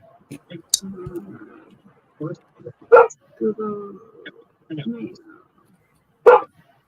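A dog barks in short, separate bursts, a few sharp and loud with softer yips and whimpers between them, close by and with gaps of quiet.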